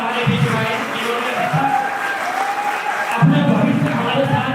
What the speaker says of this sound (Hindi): आप सभी के लिए एक बार जोरदार तालियां हो जानी चाहिए